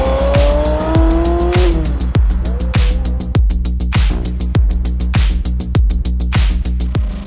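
A manual Ferrari 360 Spider pulls away on a Tuscan road, its loud engine holding a strong, steady drone with a rising whine at the start and regular pulsing beats, heard up close.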